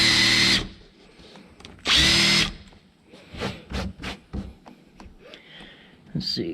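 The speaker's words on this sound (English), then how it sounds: "And now, make the hole big enough for the bolts to go through." A power drill enlarges bolt holes during a Jeep Wrangler Armorlite install, with two loud sustained whirring runs followed by shorter choppy bursts as the bit bites, close up.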